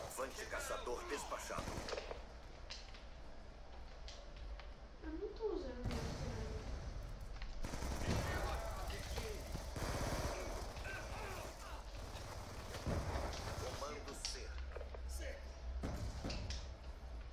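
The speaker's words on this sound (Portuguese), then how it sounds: "Só dá pra ouvir tipo coisa explodindo, tiro, bomba." Gunfire and explosions from Call of Duty: Black Ops 2 in a domination match, scattered sharp bangs and heavier booms at irregular intervals, some loud and some distant, under ongoing talk by players.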